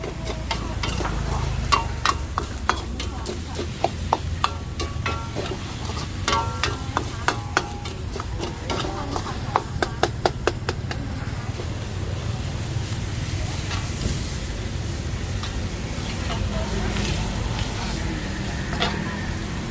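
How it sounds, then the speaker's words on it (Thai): Holy basil pork being dry stir-fried without oil in a wok at a Khon Kaen market stall: rapid metallic scraping and clacking of the spatula in quick bursts over a steady sizzling, fiery roar. "ต้องคั่วให้แห้งก่อนเนาะ คั่วให้แห้งเสร็จแล้วก็เดี๋ยวก็ใส่เครื่องปรุงนะ"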